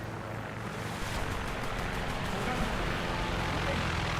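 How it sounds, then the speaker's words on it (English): Low steady drone of hostile aircraft engines in a naval combat video game, a faint distant propeller hum slowly building under a broad rushing wash. "I don't like the sound of aircraft engines"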